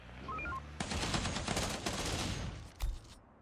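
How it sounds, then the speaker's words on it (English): Sustained bursts of heavy machine gun fire from a defensive tower in the zombie survival strategy game Infection Free Zone, set in New York, rattle loudly and continuously, then end with a final sharp report. "I love hearing the heavy machine gun"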